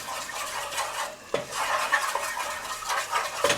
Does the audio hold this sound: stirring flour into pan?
yes